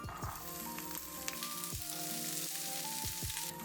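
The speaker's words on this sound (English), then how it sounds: "I stir fry it briefly to remain the crunchy texture." Steady loud sizzling of bell pepper being stir-fried in a hot pan, with repeated scrapes of a utensil stirring it.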